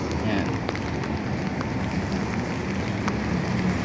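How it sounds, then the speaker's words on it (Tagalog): Light rain falling outdoors around a water tank in a perimeter area, a soft, steady patter with scattered drop ticks, blended with low rumbling background noise and faint voices. "Ingat tayo lahat, may ulan-ulan."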